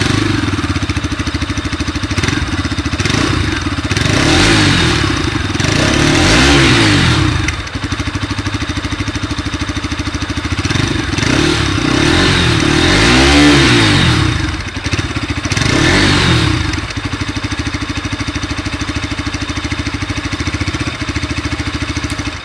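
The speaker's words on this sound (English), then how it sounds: "has the addition of this additional catalytic converter affected the exhaust note of the bike? I'll let you be the judge of the exhaust note." Exhaust note of a BS6 Bajaj RS200 motorcycle fitted with an additional catalytic converter, revved repeatedly in loud close bursts that rise and fall over a steady idle, with no talking.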